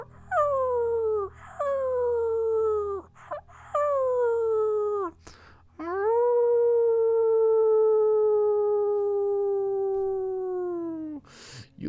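Several wolves howling in turn, long rising-then-falling wails with pauses between them, one long sustained howl dominating the latter half, clear and fairly close against a quiet background.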